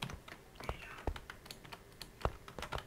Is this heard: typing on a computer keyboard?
yes